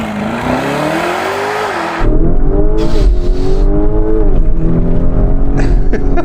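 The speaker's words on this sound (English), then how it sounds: "Here we go with the Lamborghini." A £200K Lamborghini launches and accelerates hard, its engine note loud and close, climbing in pitch through several gear changes with no talking over it.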